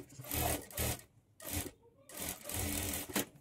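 A sewing machine stitches a folded blouse waist hem in short runs, three bursts of rapid needle chatter separated by brief pauses, close and clear.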